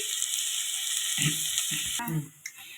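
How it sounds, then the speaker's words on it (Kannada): Onion and tomato fry in a pan for palak paneer, a steady close sizzling hiss with a few soft stirring scrapes and clinks of a spoon toward the end. "ಈರುಳ್ಳಿ ಮತ್ತು ಟೊಮೊಟೊ ಎಲ್ಲ ಫ್ರೈ ಆಗಲಿ"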